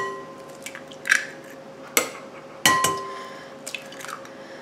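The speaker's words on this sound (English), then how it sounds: "I'm going to take 2 eggs, crack them, and put them in." Two eggs are cracked into a large bowl while making baked macaroni and cheese with three cheeses, giving a few sharp, close taps and cracks in a quiet kitchen.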